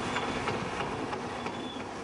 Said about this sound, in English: This is the train that runs past Jacaré to Joao Pessoa, and it's now pulling up to the station